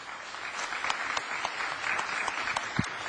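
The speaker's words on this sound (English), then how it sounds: "So warm round of applause for Professor Koh." Steady applause from an audience at an academic lecture fills the whole stretch, a dense patter of many hands clapping at moderate loudness with no voices over it.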